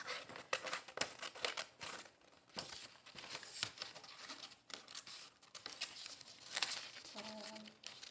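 Paper being cut out with scissors while making a pop-up book sketch, a steady run of crisp snipping and crinkling close by, with brief pauses and a faint voice near the end.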